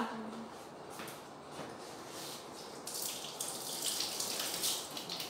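Water running from a tap during washing, a steady faint splashing rush that grows brighter and louder partway through.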